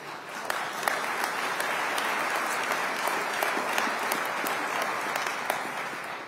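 Sustained applause from the legislative audience during New Jersey Governor Murphy's 2025 State of the State address, a dense, even wash of clapping that continues unbroken throughout.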